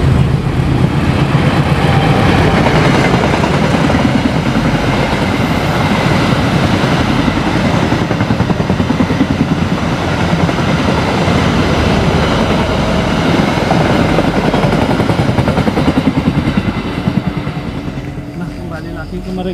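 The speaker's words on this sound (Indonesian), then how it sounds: "Ada kereta lewat." A train rumbles past close by, a loud continuous roar of rolling wheels that holds steady before fading toward the end, with speech faintly mixed in.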